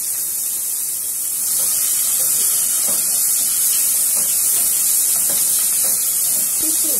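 Onion pieces dropped into hot cooking oil in a home kitchen, making a steady loud sizzle and hiss that continues throughout, with faint stirring or movement underneath.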